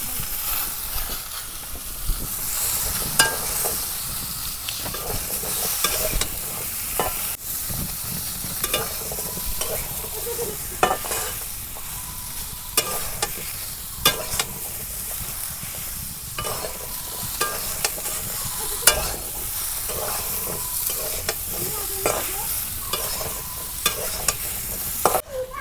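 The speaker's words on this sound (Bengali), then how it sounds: "পরিমাণ মতন হলুদ দিয়ে দিলাম।" Pointed gourd and potato fry with turmeric in a home kitchen pan: a continuous low sizzle runs throughout, broken by frequent scraping and tapping stirs, close by and without speech.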